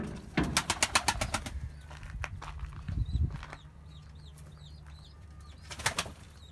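Pigeons coo softly in a loft, low rounded calls repeating over a few seconds, mixed with bursts of wing flapping and faint chirps from other birds nearby.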